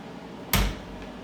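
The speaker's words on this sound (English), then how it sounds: "I'm going to close the door and reopen the door" A door in a lab imaging room housing an IVIS Spectrum imaging system shuts with one short, sharp knock, standing alone against steady background hum.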